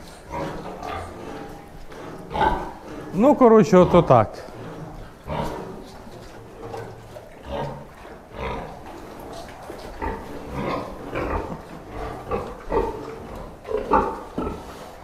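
Piglets about 15 days old squeal and grunt in short bursts, with a loud cluster of squeals early on, while a person talks over them throughout.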